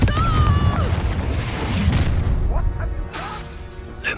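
Confringo fire spell blast in the Hogwarts Legacy video game: a loud burst with a rolling rumble and crackling debris, followed by a second impact near the end, over dense game ambience.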